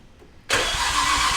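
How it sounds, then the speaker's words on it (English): Nissan R34 GT-R with an RB26 engine cranking over on its starter and firing, a sudden loud, steady roar after a brief quiet moment, close by. "RB26 starter sounds so cool"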